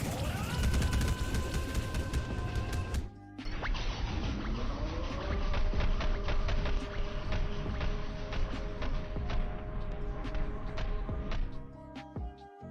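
Barrage attack in the game Anime Mania, a rapid stream of repeated impact hits with a dense ringing effect, loud and continuous, with a short gap early on.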